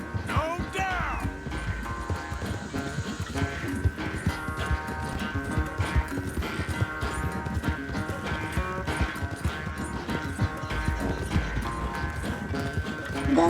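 Horse hooves clip-clop at a steady gallop in Red Dead Redemption 2, a continuous rhythmic pounding under game music and a tonal hum, with occasional voices and a brief whinny-like cry early on.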